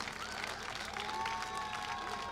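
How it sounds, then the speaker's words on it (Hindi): A political rally crowd claps for newly named ward representatives, a continuous faint wash of applause with a tonal background hum and scattered voices beneath it. "इन सब के लिए एक बार जोरदार तालियां आप लोग बजा दीजिए।"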